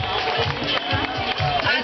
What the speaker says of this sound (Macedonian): Нека продолжи аплаузот.